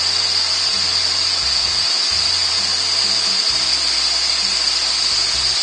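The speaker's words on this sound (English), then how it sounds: "I've got the lathe running fairly quickly" Wood lathe spinning fast while turning a walnut box with an ebony finial, giving a steady, loud high-pitched whir throughout, with a faint low hum pulsing underneath.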